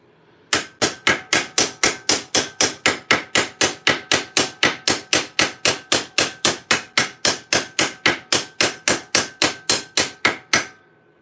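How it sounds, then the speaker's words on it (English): A small hammer peens rivets on half gauntlets, landing about thirty sharp, evenly spaced metallic strikes in a fast steady rhythm, loud and close with no talking. "Not only do I use the smallest hammer that's within reason to peen out the hammer, to peen out the rivets"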